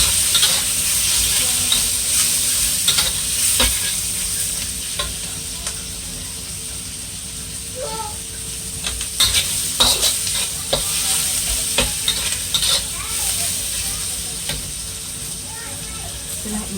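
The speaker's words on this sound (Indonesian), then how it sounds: "lanjutkan lagi dengan jamur yang sudah direndam dan dimasukkan ke wajan. Tetap sambil dioseng-oseng supaya tidak gosong." Steady sizzling and hissing from a hot wok as soaked mushrooms are stir-fried, with scraping and clinking of a utensil stirring throughout.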